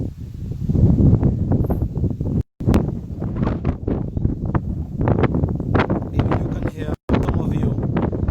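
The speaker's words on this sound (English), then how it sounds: "It's a bit windy up here" Gusty wind on a ridge in Dominica buffets the microphone in a steady low rumble, with rustling and some talk mixed underneath.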